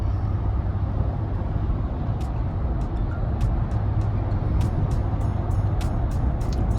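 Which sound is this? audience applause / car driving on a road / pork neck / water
car driving on a road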